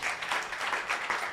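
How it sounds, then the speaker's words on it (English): An audience at a climate change prize competition ceremony applauds in a short, moderately loud burst of dense clapping. "Let's clap for them once again."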